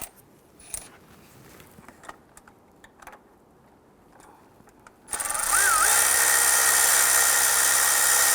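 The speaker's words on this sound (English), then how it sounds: "I'm just going to switch over to a power tool so I can go ahead and zip that out" A power tool spins out a bolt on a 2006-2012 Toyota RAV4 3.5L V6 during a crankshaft position sensor job. Quiet clicks and handling come first, then the tool bursts in loud and steady as a high, continuous whir until the end.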